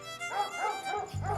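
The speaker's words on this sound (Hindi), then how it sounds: "अरे भौंक भौंक के इसने मेरे कान पका दिए" A female dog barks and yips in a neighbourhood, four shrill, whiny calls in quick succession, close and fairly loud, with a low steady hum coming in at the end.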